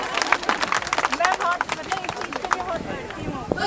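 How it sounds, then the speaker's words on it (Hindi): Audience applause at an outdoor Freedom Walk event, a dense spell of many hands clapping with sharp irregular transients that stays fairly loud throughout and slowly thins toward the end, with crowd murmur underneath. "ताली बजाइए बस आपके साथ।"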